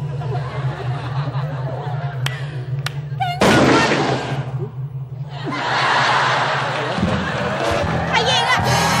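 A single sharp, loud bang goes off in a comedy stage skit on a Thai game show, then an audience laughs and voices talk over a low hum.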